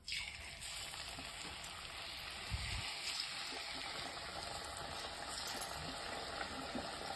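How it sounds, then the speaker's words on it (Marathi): Sweet potato puri made with bhagar flour drops into hot oil and fries with a steady, soft hissing sizzle that carries on evenly throughout, fairly faint, with a brief low bump near the start and no talk. "तर आता तेलात मी एक सोडून घेते"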